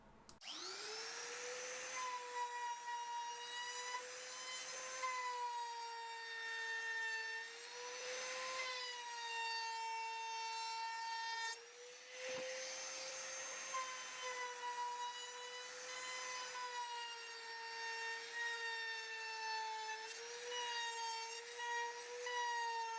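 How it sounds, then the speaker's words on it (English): A router fitted with a small ball-bearing round-over bit edges timber bridge pieces, giving a sustained high whine that rises and dips as it cuts, with a short break midway. "I put the rounded edges on both sides of the timber bridge pieces using the smaller of the curved rounder bits with the ball bearing"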